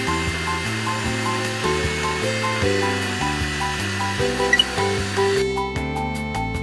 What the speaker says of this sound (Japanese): 3D プリンターで製造します。